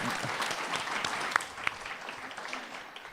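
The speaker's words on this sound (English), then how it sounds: "can we get a round of applause for the staff of Everfree Northwest?" A convention crowd at Everfree Northwest 2017 applauds the event staff, steady close clapping from many hands with a couple of sharp louder claps standing out, fading slightly toward the end.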